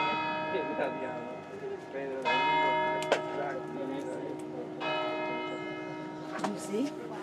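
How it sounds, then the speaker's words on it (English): Church bells ring in Rome, their sustained metallic tones sounding moderately loud and slightly distant, with repeated strikes that swell and linger, while someone talks over them. "there's the bells"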